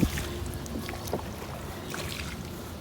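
A canoe paddled through water while practising paddling skills, with soft splashes and wind noise throughout and no speech.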